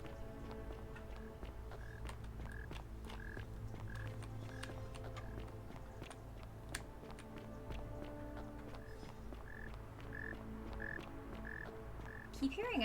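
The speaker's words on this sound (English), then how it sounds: "Keep hearing that frog." Frog croaking in the video game The Forgotten City, a steady series of short, regular croaks repeating in two runs over a continuous low ambient game background, moderately distant and fairly faint.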